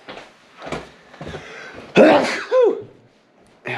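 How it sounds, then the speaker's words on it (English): A single sharp, close-up human sneeze bursts out after some quiet breathing, followed by a short second vocal burst, then near silence. "I have to sneeze."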